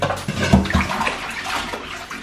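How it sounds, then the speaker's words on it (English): Bok choi washed in a bowl of salted water, with close, continuous sloshing and splashing and a few heavier swishes near the start. "So this is how you have to deal with your vegetables to get them nice and clean."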